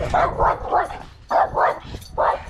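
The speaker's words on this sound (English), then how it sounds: "somebody kill that dog" A dog barks repeatedly in pairs of sharp woofs, fairly close, with brief pauses between bursts.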